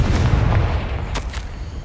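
The Confringo blast spell going off in Hogwarts Legacy: a deep booming burst followed by a couple of sharp cracking pops, loud and brief, with low rumble underneath.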